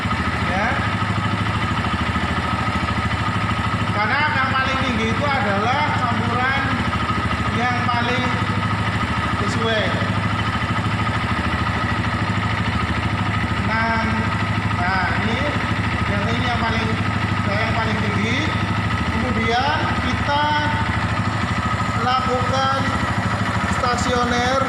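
Carburetor motorcycle engine held at high idle, around 1400 RPM, during a fuel system check, running steadily throughout at close range while a person talks over it.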